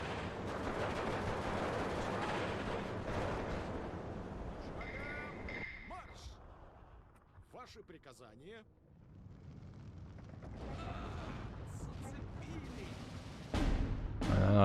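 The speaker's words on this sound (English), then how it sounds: "Artillery coming in nicely." Artillery fire in the Steel Division 2 strategy game rumbles as a continuous, fairly faint barrage of distant booms and crackles, with a quieter stretch midway and a sharper hit near the end, while a voice talks over it.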